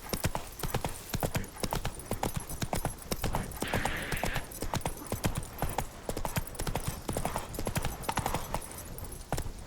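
Roach the horse from The Witcher 3 galloping at a steady pace, a dense rapid clip-clop of hooves throughout with a brief whinny in the middle, close and continuous.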